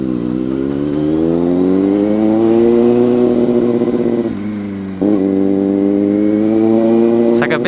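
A CFMOTO 750SRS motorcycle engine drones steadily while riding, its pitch rising and holding, with a brief dip at a gear change; the engine is loud and close and runs continuously throughout.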